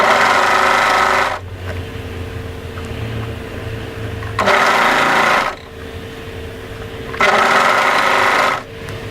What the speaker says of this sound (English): we need to overlock the sleeve into place